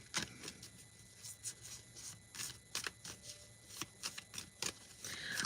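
Tarot cards shuffled by hand in quick bursts of riffling and rubbing, a dozen or so crisp flicks and swishes spread unevenly over a few seconds, close and fairly quiet with no talking.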